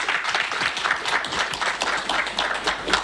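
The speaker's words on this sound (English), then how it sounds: "please put your hands together for Kofi Abuchi again" An audience at a broadcasters' forum in Ghana claps for the speaker, a moderate ripple of individual hand claps at a fairly steady pace.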